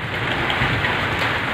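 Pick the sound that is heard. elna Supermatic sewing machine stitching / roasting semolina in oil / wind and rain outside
wind and rain outside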